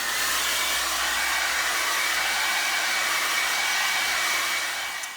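A hair dryer blows steadily and loud on freshly applied lacquer over a repaired leather area, a continuous whooshing hiss holding for the whole stretch with no talking.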